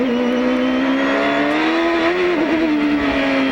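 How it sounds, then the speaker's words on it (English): Champ Car onboard at the 2005 Denver street race, with the rear brakes locking: a loud, continuous engine whine holds steady, dips briefly around a brake lockup, then carries on, close and alone. "listen to Allmendinger, because he is locking the rear brakes"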